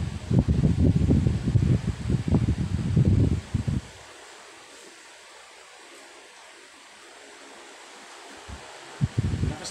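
An electric fan set to a high speed blows hard, a steady whooshing roar up close that runs loud for several seconds, then drops away to near quiet before briefly surging again at the end.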